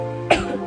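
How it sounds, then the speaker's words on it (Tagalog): One short, close cough from a woman, a quick throat-clearing burst that cuts through a low steady background hum. "excuse, umubo na ako."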